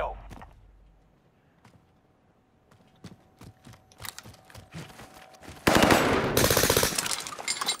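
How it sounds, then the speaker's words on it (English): Call of Duty: Warzone gunfire, first scattered single shots and clicks at moderate distance, then a loud sustained burst of rapid automatic fire during the last two seconds. "Who's shooting behind us?"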